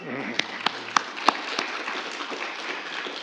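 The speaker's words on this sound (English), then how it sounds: "It's okay to clap." Graduation audience applause for a certificate program class: a few distinct claps at the start merging into a soft, continuous patter of clapping.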